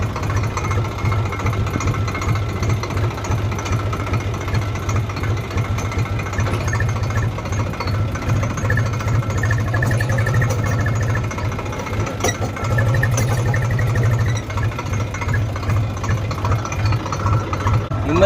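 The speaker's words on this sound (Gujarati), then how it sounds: "તમારો ભાઈ ટ્રેક્ટર ચલાવવાનો છે" A farm tractor engine runs steadily and close by in a village field, with a continuous chugging, knocking drone and no talking.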